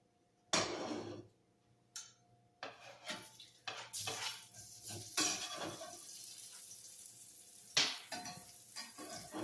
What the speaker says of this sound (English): We're going to put the onions in first, stir those around for a minute.